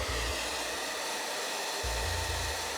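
A hair dryer blows steadily and close, drying wig glue, with a steady broad whoosh throughout and a motor hum that briefly dips mid-clip, no talk.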